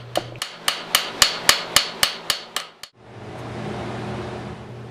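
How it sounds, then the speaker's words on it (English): A small cross peen hammer strikes a rivet head about a dozen times in a quick, even rhythm to spread it into a counterbore on a forged latch bolt, with sharp ringing blows over a faint fan hum. "Here I'm using a small cross peen to expand the rivet head into the counter bore"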